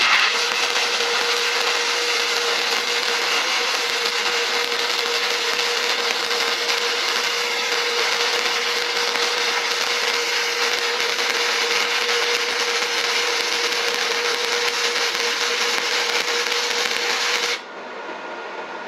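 A Sefaspe MIG135E MIG welder runs a continuous weld strip, a steady, loud crackling hiss with a constant hum held unbroken for about seventeen seconds, then cutting off abruptly to quieter background.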